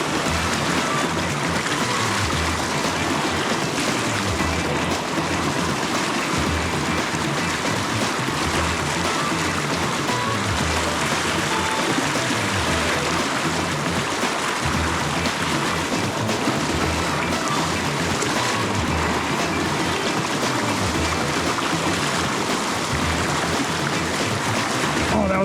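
Fast, high river running with spring runoff in California, a dense continuous roar of rushing water, loud and close, steady for the whole stretch.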